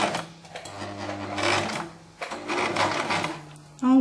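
A sewing machine stitches a detachable Claudine collar in short mechanical bursts with brief pauses between them, heard alongside someone talking.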